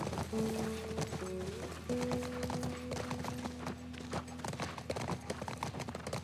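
Horse hooves clip-clop at a steady walking pace in The Last of Us Part 1, a quiet rhythmic clatter of repeated knocks with soft background tones alongside.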